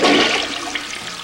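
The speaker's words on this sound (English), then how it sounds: "The sound is toilet flushing with toy frog" A toilet flushes with a toy frog in the bowl, giving a single loud gushing rush of water that quickly fades into a gurgling swirl.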